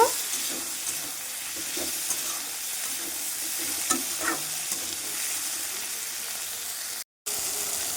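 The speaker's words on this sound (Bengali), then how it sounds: "আর একটা টমেটো কুচি দিয়ে দেবো দিয়ে ভালোভাবে নাড়িয়ে চাড়িয়ে নেব" Chopped tomato stirred into frying ginger and onion in a pan for a prawn filling, with a steady close sizzle and spoon scrapes and clinks throughout, no talking.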